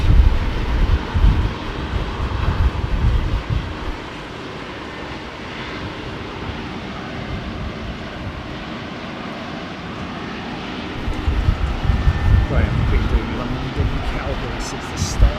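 A WestJet Boeing Dreamliner jet airliner flying at Heathrow, its engines giving a steady, fairly distant roar with a broad rumble that swells again near the end. Voices talk over it.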